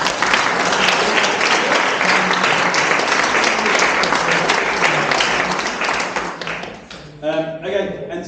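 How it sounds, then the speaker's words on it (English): A crowd applauds loudly and steadily for several seconds at a graduation show, then the clapping thins out near the end as a voice begins speaking. "let's give those a round of applause."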